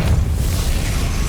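A Depulso repelling spell cast in Hogwarts Legacy lands as a brief, loud, deep booming whoosh, a single low rumble lasting just over a second.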